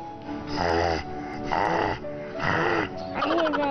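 A person imitates a father's heavy snoring with the voice, producing four long, loud, rasping snore breaths in a slow regular rhythm, each separated by a short pause, close up and alone.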